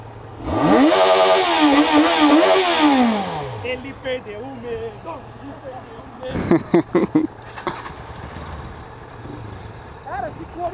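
A Jaguar XJ6 engine revs hard for about three seconds in a loud, rising and falling roar. It then drops to a rough idle with scattered knocks and short bursts of noise.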